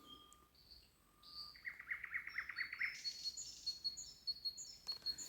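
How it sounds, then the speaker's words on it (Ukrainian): Songbird in spring warbling outdoors in light wind, a rapid trilled phrase followed by a run of bright repeated high notes, clear and fairly close, with no voices. "коли прилітають соловейки, якщо вони прилітають, якщо вони летять кудись, і коли вони співають"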